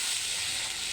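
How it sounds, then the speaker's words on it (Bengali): Spice paste of turmeric, chili powder, salt, cardamom and cinnamon fries in a pan with a steady, close, bright sizzle throughout the short moment. "মশলাটাকে ভালো করে কষাই নিব।"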